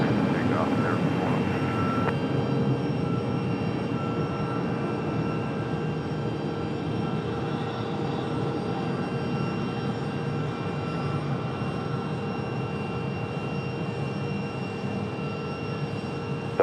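An airliner taking off from runway 23 right at Raleigh-Durham International, a steady distant jet engine roar that holds evenly throughout, with faint radio voices underneath.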